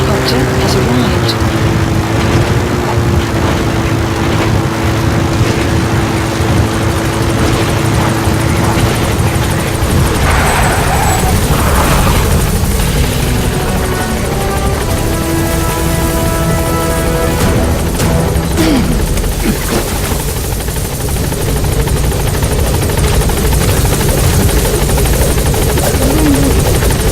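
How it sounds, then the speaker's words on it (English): The support helicopter in Metal Gear Solid V: The Phantom Pain on PS4, a loud, continuous rotor drone and engine whine holding steady throughout, with game voices and shifting tones over it. "Support helicopter has arrived."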